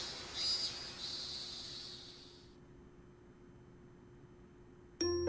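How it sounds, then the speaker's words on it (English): Cicadas buzz in a Japanese video game, a bright, steady, insect drone that fades out about halfway through and leaves near silence, then a brief click sounds at the very end. "Oh, the sound of cicadas."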